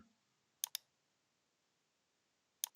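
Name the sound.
mouse click on sign up option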